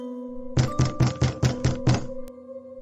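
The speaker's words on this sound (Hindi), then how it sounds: "खुद सामने के दरवाजे पर दस्तक देने लगा" Knocking on a hostel room door: seven sharp, evenly spaced knocks in a quick rhythm, loud and close over a faint tonal background hum.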